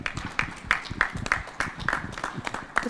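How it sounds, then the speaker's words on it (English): Audience applause rising on stage to welcome a singer at a corporate brand event, a steady patter of many hands clapping in a room, moderately loud and continuous for a few seconds with no talking. "Let's welcome with a round of applause on stage"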